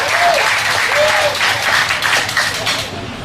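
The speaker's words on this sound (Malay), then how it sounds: "Bagi satu tepukan kepada mereka yang sedang artiakan mereka" A crowd applauds loudly at a political rally in Malaysia, with steady, dense clapping that fills the space, while faint cheering and a voice carry underneath.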